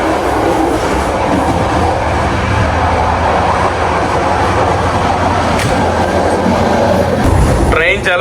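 Constant rumble and rattle of a moving, crowded passenger train in Europe heard from inside a carriage, with wheels clattering steadily and a brief squeal near the end.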